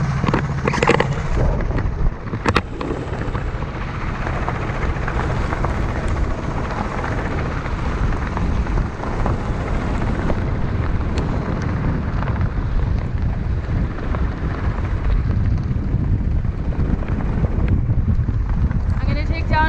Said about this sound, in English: And yeah, the wind's picking up.